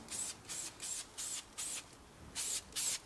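Lanoguard rust treatment sprayed under a Mk4 Mitsubishi Shogun, seven short hissing spray bursts of about a quarter second each, close and fairly quiet, with brief pauses between them.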